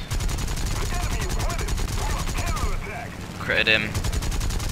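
Bursts of aircraft cannon fire from a Japanese plane in the video game War Thunder rattle rapidly and loudly over a droning engine, with a voice talking briefly over the shooting.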